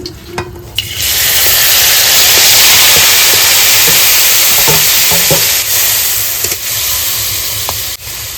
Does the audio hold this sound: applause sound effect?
no